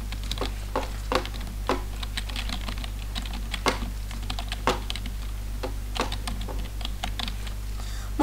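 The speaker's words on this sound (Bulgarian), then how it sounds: "Може да ме чувате малко клавиатурата" Rapid computer keyboard typing during a Counter-Strike session, irregular clusters of sharp clicks over a steady low hum, close and fairly quiet, without talk.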